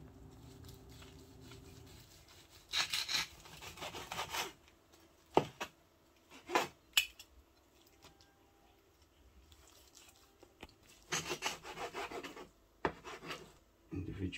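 Knife slicing through a rested boneless fore rib of beef, giving soft, moist sawing and squishing strokes in several separate bursts, close and fairly quiet, with no talk.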